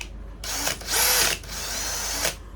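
A hammer drill with an attachment fitted spins up in short bursts, its whine rising and falling across three close, loud runs with brief pauses between them.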